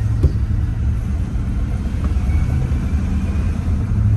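A 1981 GMC truck drives along with a steady low engine rumble and cabin hum, gears shifting smoothly, close and fairly loud with no talking.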